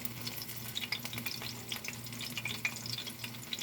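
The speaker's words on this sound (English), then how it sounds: "I'm not frying big pieces of chicken. I'm frying small pieces." Small pieces of chicken fry in a hot pan for bourbon chicken, giving a steady close sizzle with scattered sharp crackles and pops.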